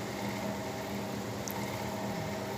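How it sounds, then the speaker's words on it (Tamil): Tomatoes sautéing in a pan for egg semiya, a steady close sizzle with faint bubbling and crackle that holds evenly throughout, no voices. "தக்காளிலாம் நல்லா வதங்கட்டும்"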